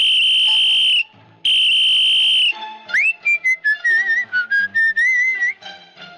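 A shrill whistle in the video game Stickman Prison Escape blasts twice in long sustained tones, followed by a run of short chirping whistle notes that rise and wobble in pitch.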